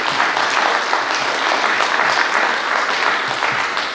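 Sustained audience clapping at a governance conference, dense and even throughout, with no talking over it.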